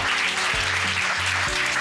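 An audience claps during a church sermon, a steady wash of applause filling the hall, fairly loud and continuous, with no one speaking over it.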